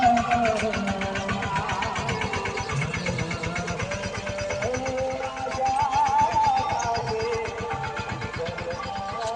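A tractor engine runs on a farm, a close rhythmic chugging with a pulsing mid-pitched drone that holds steady throughout.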